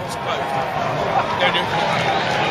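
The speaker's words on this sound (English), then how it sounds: "They are cheering." Football crowd cheering in the stand at a Yeovil vs Plymouth Argyle match before kick-off, a steady dense roar of many voices filling the ground throughout.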